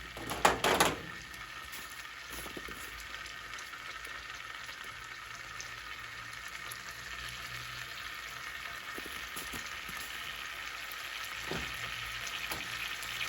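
Garlic sizzles steadily in a hot pan with little smokies for a chile colorado, a soft continuous crackle running throughout after a brief louder clatter at the start.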